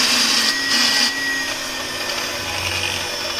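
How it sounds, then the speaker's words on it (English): An electric beater whips cream for a mango dessert, giving a continuous loud, close motor whine with slight shifts in pitch as it runs through the cream. "Now I'll be using the beater to beat my cream."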